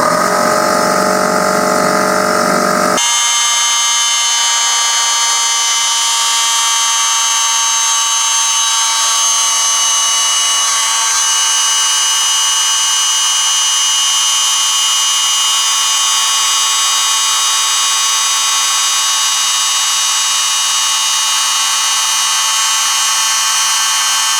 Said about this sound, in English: So I'm going to turn on the motor. That's going to drive the pump, and we'll fill up the tank with lots of air